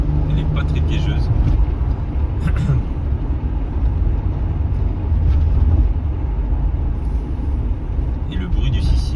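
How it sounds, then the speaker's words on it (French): Toyota Supra Mk3 with a 3.0-litre turbocharged six-cylinder engine, heard from inside as a steady, muffled low rumble that continues throughout with a few brief clicks and rattles. "Et le bruit du 6 cylindres, feutré comme ça, il n'y a pas de ligne, il n'y a rien du tout, c'est vraiment son hein, non édulcoré"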